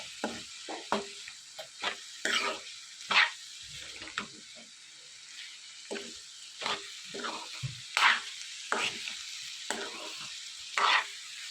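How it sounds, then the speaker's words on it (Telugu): Sliced bottle gourd (anapakaya) fries plainly in a pan, a soft steady sizzle broken by repeated sharp scraping stirs, with faint barking in the distance. "ఓన్లీ మామూలుగానే ఫ్రై చేస్తున్నాను"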